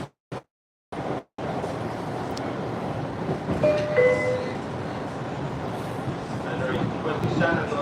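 An MBTA Red Line subway train rumbles into a station, a steady loud roar of wheels on rail with faint squeals and clatter building after a few abrupt cuts at the start.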